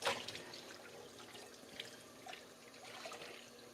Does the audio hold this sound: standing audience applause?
no